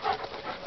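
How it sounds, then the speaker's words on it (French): A dog pants rapidly and close by, in quick breathy puffs over a short moment. "Oh, c'est un bon chien."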